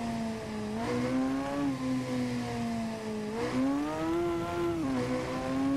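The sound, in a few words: Honda Hornet motorcycle engine accelerating out of a corner, video game Ride 2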